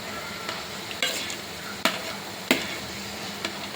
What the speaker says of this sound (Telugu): ఇలా రైస్ వేసేసుకొని కలిపేసుకోవడమే.